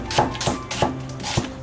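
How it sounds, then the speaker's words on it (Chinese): A knife slices half an onion into strips on a board, giving four crisp, evenly spaced chops close by, with no voices. "准备半根洋葱，用刀切成小条"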